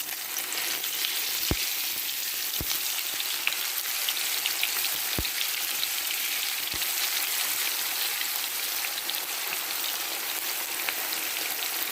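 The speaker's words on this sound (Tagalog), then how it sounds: "Prituhin ko muna yung talong guys." Eggplant sizzles steadily as it fries in hot oil, a dense crackling hiss that stays even throughout, with a few sharp pops and clicks from spattering, close to the mic and with no talk.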